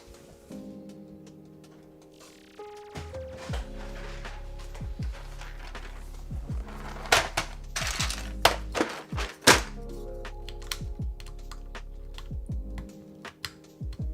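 Keystrokes on a Keycult No. 3 mechanical keyboard with swapped keycaps, producing a steady run of close thocking clacks with a few louder thwacks near the middle, heard alone without talk.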